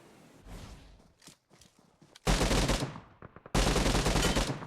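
Loud, close bursts of rapid automatic gunfire from a high-damage, low-recoil weapon in a mobile battle royale shooter, two long sustained volleys after scattered softer shots and footsteps.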